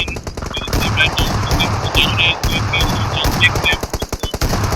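Rapid automatic rifle fire in a competitive shooter video game match, with AKM bursts rattling in quick strings close up under a commentator's continuous excited talk.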